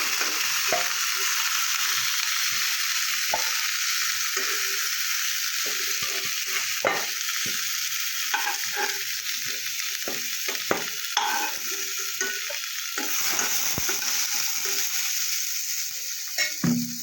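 Kohlrabi pieces fry lightly in a pan with a continuous bright sizzle, punctuated by frequent spatula taps and stirring knocks throughout.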